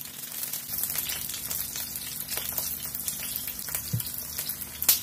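Eggplant frying in a pan, a continuous close sizzle and crackle with occasional stirring scrapes and a brief clink near the end.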